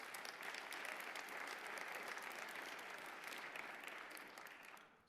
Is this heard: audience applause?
yes